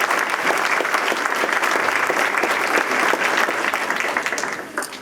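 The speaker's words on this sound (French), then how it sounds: "je crois qu'on peut l'applaudir aussi, c'est une belle action." An audience applauds during a mayor's New Year speech, dense continuous clapping that holds steady and then tapers off near the end.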